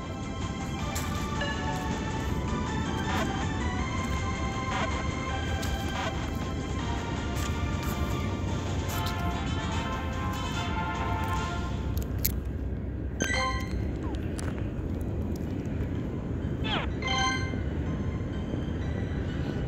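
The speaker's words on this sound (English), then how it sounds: "You guys hear the train?" A train runs close by with a steady rumble and metallic rail clatter that holds throughout, plus a few sharper squeal-like accents near the end.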